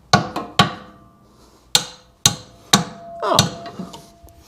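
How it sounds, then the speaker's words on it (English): A hammer striking a Jeep control arm, with about seven sharp, loud metallic whacks at irregular intervals, close by, some ringing briefly after impact. "I have a hammer over here."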